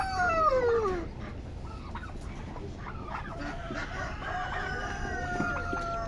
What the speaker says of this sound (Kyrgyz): Бу аяк кимдики бу ак тооктор?